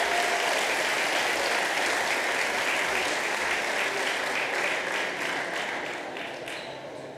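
Audience at a community awards event claps in a dense, steady round of applause that holds strong for several seconds, then begins to thin and fade toward the end.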